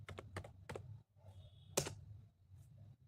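Fingers tapping a password on a computer keyboard, a quick burst of four or five keystrokes, a pause, then a few more isolated clicks, close and fairly quiet with no talking.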